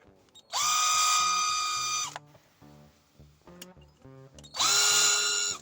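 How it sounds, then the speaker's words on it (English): A 1mm drill bit bores holes in a Traxxas TRX-4M Defender RC car body, two high whirring bursts of about a second and a half each, with softer clicks and motor hums between them. "This is 1mm drill bit, and it does the job perfectly and so easily."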